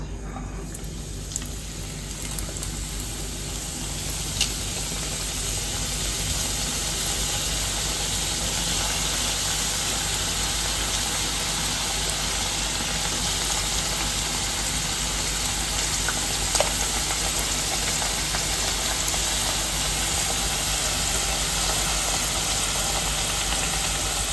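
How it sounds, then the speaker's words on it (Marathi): Coconut-filled karanji (nevri) pastries deep-frying in hot oil, a steady, even sizzling hiss that runs unbroken throughout with no voices. "करंजी तळून घेऊया."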